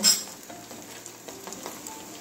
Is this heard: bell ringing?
no